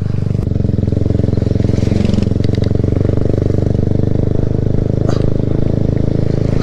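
A motorcycle ridden along an icy winter road, its engine running steadily and loud up close for the whole stretch, with brief rattles and clatter breaking through around the middle.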